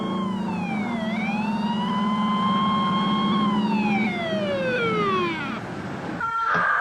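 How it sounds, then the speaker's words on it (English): A loud emergency vehicle siren wails nearby, close to a hospital, its pitch sweeping down, holding steady, then falling again. A brief burst of other noise follows at the end. "I remember hearing the sirens"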